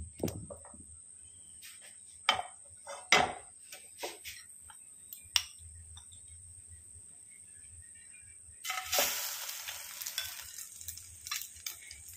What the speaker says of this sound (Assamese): এতিয়া মই এনেকৈ ব্ৰেড পিচৰ দুইফালে লেটিয়াম আৰু কেৰাহীত দি দিম